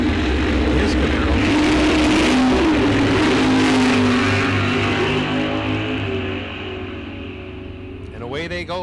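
Drag racing cars, including Joe Lindbergh's Camaro, launching at Rock Falls Raceway, a loud roaring engine rush that swells then fades into the distance, with a short burst of crowd noise at the end.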